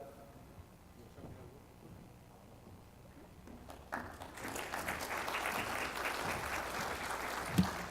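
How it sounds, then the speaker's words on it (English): Audience applause at a water policy forum in Orlando, rising after about four seconds into a steady, moderately loud patter of many hands that continues to the end, following quieter room murmur. "you shouldn't clap until you hear what I have to say"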